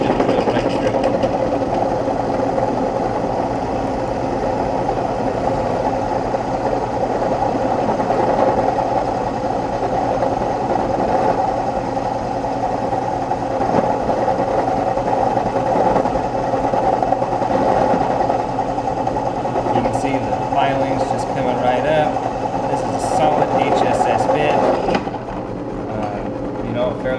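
A carbide drill bit bores into steel, producing a continuous loud mechanical whir and grinding drone that holds steady for about 25 seconds before easing off at the end.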